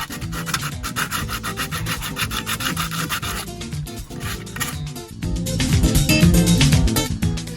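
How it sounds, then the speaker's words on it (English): Sandpaper scrubs old gunk off a surface in fast, repeated rasping strokes, loud and close, continuing with brief pauses and growing heavier toward the end. "So I got some sandpaper, and I'm gonna sandpaper all this off."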